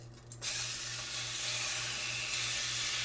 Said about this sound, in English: we have to let it sear for 3 minutes on each side